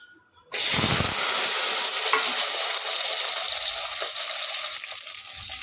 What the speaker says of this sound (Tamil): சின்ன வெங்காயம் போட்டு வதக்கி வதக்கிருக்கேன்